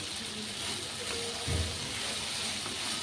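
Potatoes fry in a pan with chili powder and salt, giving a soft, steady sizzle with a faint stirring bump midway, close and low in level, with no talking.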